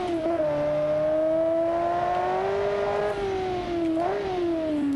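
A truck engine in BeamNG.drive revs up and holds a long, climbing drone that dips briefly between gear changes before rising again, loud and close with no talking.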